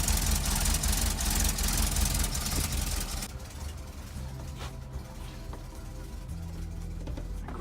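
A VW T25 campervan engine idles with a steady low rumble and faint knock, moderately quiet, its tone shifting slightly partway through.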